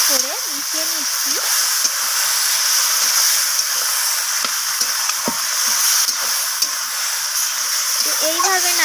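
Small shrimp and curry with Malabar spinach stirred and frying in a hot pan, a steady loud sizzle and hiss with occasional spoon scrapes, while a voice talks briefly at the start and end.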